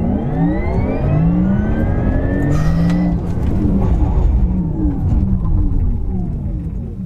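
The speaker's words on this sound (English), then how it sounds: "Car has started humming to let us know we're in Sport Plus, like the engine is on." A Porsche Taycan electric car in Sport Plus accelerates hard, its loud synthetic hum and electric whine rising steadily in pitch across several seconds, with road and wind roar building underneath.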